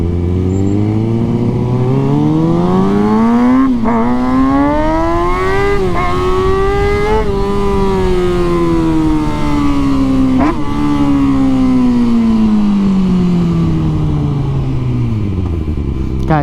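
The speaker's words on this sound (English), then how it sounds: "I'm gonna do one more pull." A stunt motorcycle engine revs hard and accelerates for a long pull, its loud, close whine rising and falling through several gear changes.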